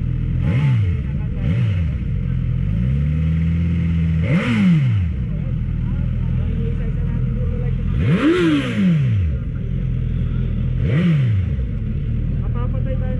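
A Suzuki GSX-S1000 inline-four motorcycle engine idles with a deep rumble and is repeatedly blipped into sharp, rising revs, roughly five quick throttle bursts close by.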